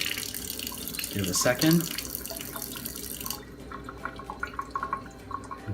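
Water running from an Enagic Kangen water machine, a steady flow into a container with a brief louder splash, while a person speaks briefly.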